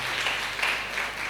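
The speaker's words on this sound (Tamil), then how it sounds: "நல்லா கைத்தட்டி அவங்கள நான் வரவேற்கலாம்." A church congregation applauding at a Sunday service of an Assemblies of God church in Tirupur, a steady dense wash of many hands clapping together that fills the whole short stretch without pause.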